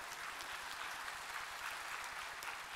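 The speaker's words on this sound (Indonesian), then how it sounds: "Tepuk tangan bantu." Audience applause at a university graduation ceremony in a large hall, a steady broad clapping wash that is fairly faint and distant, with no voices over it.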